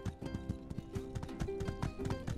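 Horse hooves clip-clopping at a steady rhythm in the video game My Time at Sandrock, a run of crisp repeated hoofbeats, fairly quiet.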